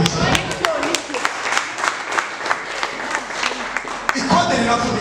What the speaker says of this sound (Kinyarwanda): Imana amashyi